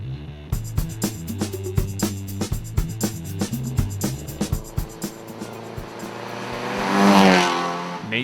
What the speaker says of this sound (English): Nate Tennis was running strong all weekend in his Saab 99.